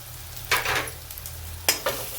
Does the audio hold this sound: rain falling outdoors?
no